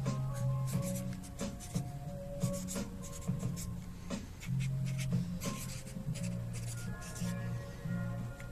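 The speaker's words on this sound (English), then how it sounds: "writing on this piece of paper right here" A pen scratches across a sheet of paper in short, irregular strokes with brief pauses, close and quiet, over a faint steady hum.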